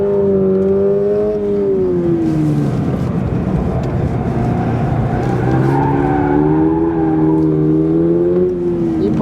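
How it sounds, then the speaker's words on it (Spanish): Car drifting and skidding through corners on a track test, with a steady loud engine drone and wavering tire squeal that runs throughout, close and continuous. "Ya está derrapando"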